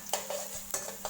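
A utensil scrapes and stirs garlic and coriander root in a pan, giving a few sharp clinks and scrapes at irregular intervals over a soft steady background.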